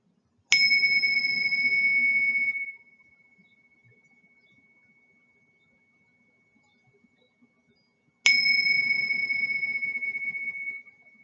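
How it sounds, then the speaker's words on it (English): Two clear strikes of a meditation bell, each ringing out with a bright shimmering tone that fades slowly, separated by several seconds of near silence. "Just listen to the sound of the bell for 3 times."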